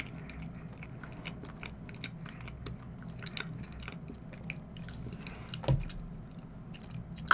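Fresh strawberries are chewed close to the mic, giving soft, irregular crunchy and squishy bites against a quiet background.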